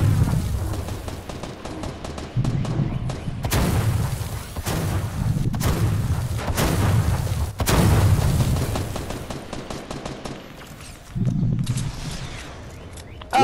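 Rapid bursts of gunfire in the video game Fortnite during a clutch match, loud repeated volleys and booms crowding most of the stretch with brief pauses between.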